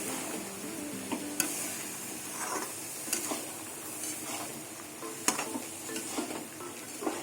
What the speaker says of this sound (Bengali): এবার মটর দিয়ে কিছুক্ষণ কষিয়ে নেবো